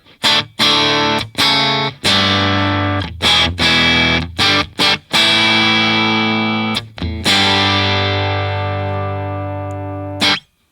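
Dry electric guitar on the bridge pickup through an amp with no reverb: a run of sharply picked notes and chords, then a long sustained chord ringing out, close and loud.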